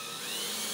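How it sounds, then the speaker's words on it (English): A power drill fitted with a 3/8 bit boring out the corners of a PVC frame, giving a steady, close, high-pitched whine with continuous grinding hiss and no break in the motor. "I'm gonna start drilling out these corners. We use a 3/8 drill bit."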